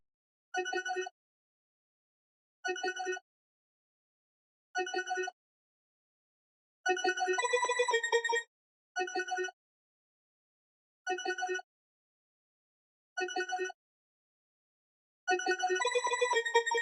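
A chopped, pitched synth pad sample from Analog Lab, sounding as short evenly spaced stabs with a couple of longer layered chords between them, clean and bright with silence between hits.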